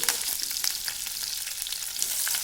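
Curry leaves, halved green chillies and oil sizzling hard in a pan for dry bhindi masala, a dense continuous crackle with small pops throughout and no voices.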